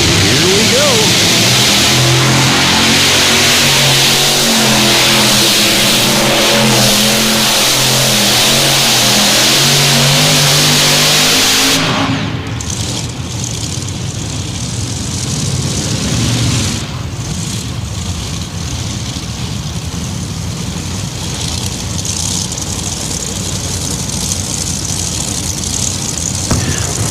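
Modified race cars at 300 Raceway roar and rev loudly as they race, the engine noise dropping back to a broad, distant rumble partway through while an announcer talks.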